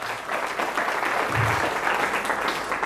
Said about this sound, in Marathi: तेव्हा एकदा रुचासाठी पण टाळ्या वाजवूया.